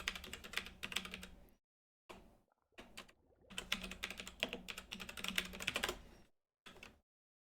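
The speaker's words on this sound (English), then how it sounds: "don't know why I'm typing that." Fast, close clatter of typing on a computer keyboard comes in bursts separated by short silent pauses, with no voices.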